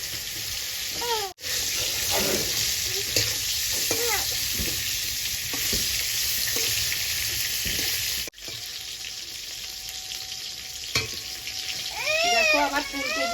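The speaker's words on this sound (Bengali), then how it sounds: "দেখো আমার ফুলকপিগুলো ভাজা হয়ে গেছে, লাল লাল করে ভেজে নিয়েছি।" Cauliflower pieces coated in turmeric and salt fry in very hot oil in a pan, giving a steady, close sizzle broken by stirring scrapes and a couple of brief gaps, with faint voice-like tones near the end.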